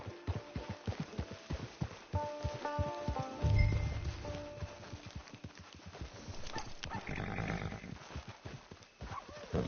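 Horse hooves clip-clop steadily in a video game, with a short neigh partway through and a low thud; the hoofbeats are close and fairly loud, with no talking.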